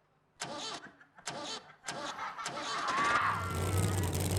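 A motorcycle engine starts up and settles into a steady idle after a few short bursts of sound, fairly close and moderately loud.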